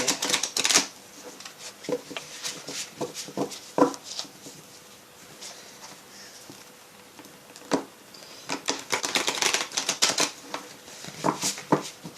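Tarot cards being shuffled and handled at a reading table, giving irregular bursts of crisp riffling and flicking, close and moderately loud, with quieter pauses between the bursts and no talking.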